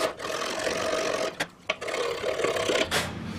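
An aggressive hand file rasps rust off Honda Accord front brake parts in a home shop, steady close scraping strokes with two brief pauses.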